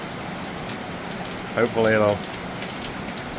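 Heavy rain pours down steadily at a dairy farm house, a dense continuous hiss throughout, while a person briefly speaks over it in the middle.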